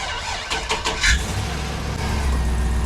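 A truck engine cranks with a few quick clicks, catches and settles into a steady, rumbling idle in neutral, close and fairly loud.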